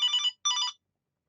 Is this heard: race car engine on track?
no